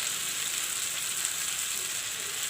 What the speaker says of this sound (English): Put in the garlic paste.